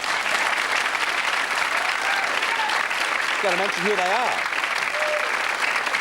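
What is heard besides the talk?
studio audience applauding themselves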